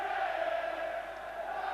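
A football crowd at a Swindon Town versus Crystal Palace match roars in a sustained, dense wall of voices, steady and loud without a break.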